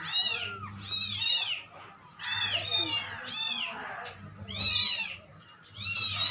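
A cat meows repeatedly, close and fairly loud, in a rhythmic series of rising-falling cries separated by brief pauses.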